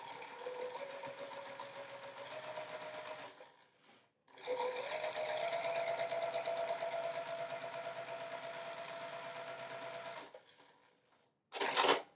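A domestic sewing machine stitches along drawn lines on a 10-inch quilt square, running steadily in two long bursts separated by a short pause, close and fairly quiet, with no voices.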